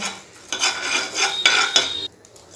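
A utensil scrapes and clinks against a pan in a few quick strokes stirring a sambar powder spice mixture, close and fairly quiet, with no one speaking.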